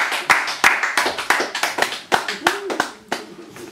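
A small audience claps after a poetry set, with a handful of distinct, close hand claps in an uneven rhythm and voices talking over them.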